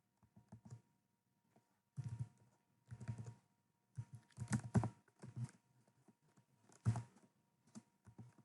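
Typing on a computer keyboard while entering code, with irregular bursts of close, crisp key clicks separated by short pauses.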